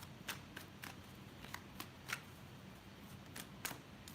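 Tarot cards are shuffled by hand in quiet, quick riffling bursts, about a dozen soft papery flicks at an uneven pace, close and faint with no talking.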